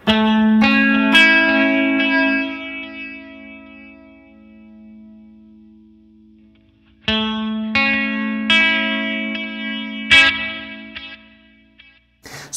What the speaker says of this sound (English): And you can hear the warble from the modulation.